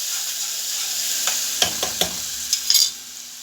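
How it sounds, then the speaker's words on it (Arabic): Grated onion softening in a little oil in a pot, stirred with a few scraping clinks and knocks over a steady hiss of gentle sautéing; no voices. "هنزل بالبصلة، مش هحمرها، يا دوبك هتدبل."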